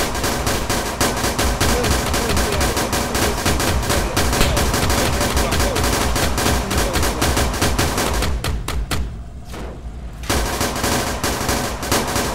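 Sustained automatic gunfire in the video game Arma 3 Wasteland, rapid loud shots rattling almost continuously, then breaking into a few scattered shots and a brief lull before firing resumes.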